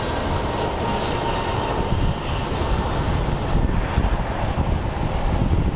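A passenger airplane on a Dallas Fort Worth flight out of Sky Harbor Airport gives a loud, steady, broadband engine roar that holds close and continuous throughout, with slight swells in intensity.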